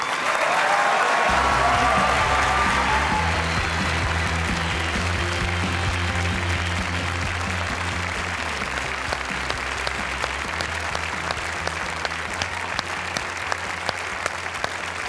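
A large crowd at the 2015 BAFTA Games Awards gives sustained, full applause lasting the entire stretch, joined by low, steady music tones that shift partway through while the clapping carries on.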